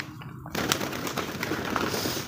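Pigeons in a cage give soft, low coos over a steady rustling background, with a brief quieter stretch at the start before the continuous sound sets in.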